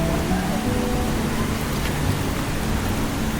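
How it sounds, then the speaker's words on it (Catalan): Rain falls at Vintgar gorge in Slovenia as a loud, unbroken wash of broadband hiss, close and constant, with no voices. "Està plovent!"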